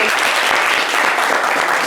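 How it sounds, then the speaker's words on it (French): A studio audience applauds a radio caller named Gaël on a French live show, a dense, steady wash of clapping filling the whole moment at close, loud level. "on va applaudir Gaël"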